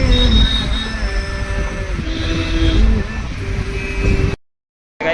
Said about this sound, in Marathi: आता ट्रेनच येते वाटते